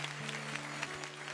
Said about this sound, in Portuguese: Quem crê nisso, dê uma salva de palmas a Ele.